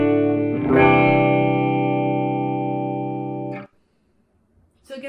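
Fender Jazzmaster electric guitar with Lawler Blade Master pickups, played through a Fender Tone Master Deluxe Reverb amp, rings one bright, distorted note for about three seconds before it cuts off abruptly into silence, with a faint noise at the very end.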